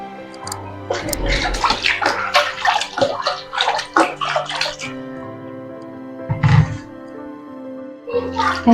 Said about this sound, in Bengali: এভাবে আরো একবার ধুয়ে নিচ্ছি।